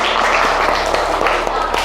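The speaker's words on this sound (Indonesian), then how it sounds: "Oke, tepuk tangan." Steady applause from a classroom, a dense wash of clapping that holds evenly for the whole stretch with no pauses.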